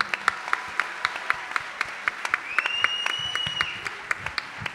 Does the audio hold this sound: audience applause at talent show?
yes